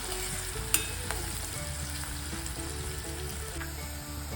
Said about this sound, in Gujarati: શાકને સાંતળી લઈશું